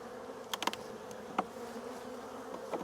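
Honey bees humming around an open hive in an apiary as a frame is lifted out, a low steady drone with a few sharp clicks and knocks of the frame close by.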